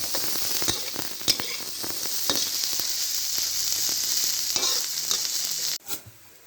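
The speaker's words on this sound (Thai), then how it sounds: "มาคั่วพริกเอาครับผม คั่วเอานะครับ" Dry crackling and rattling of chilies dry-roasting in a hot pan, with scattered sharp ticks as they are stirred, ending in a brief quieter pause and a last scrape.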